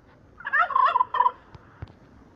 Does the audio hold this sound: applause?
no